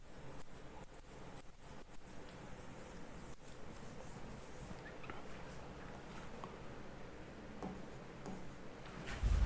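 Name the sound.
writing the next point on a board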